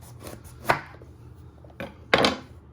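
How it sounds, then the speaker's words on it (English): A knife chopping the top off a bell pepper on a chopping board: a few sharp, close cuts, one early and two more in quick succession near the end, with quiet gaps between. "You first want to chop your top off."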